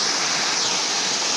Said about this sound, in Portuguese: Agora nós vamos filmar para cima na cachoeira.